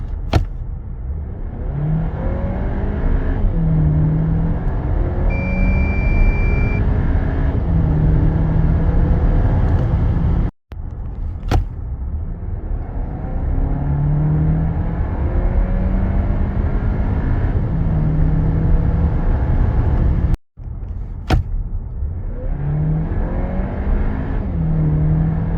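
VW Arteon Shooting Brake 2.0 TSI 280 4MOTION with a seven-speed DSG gearbox accelerating and downshifting, heard from inside as a steady engine drone with repeated rises in pitch, cut by two brief breaks.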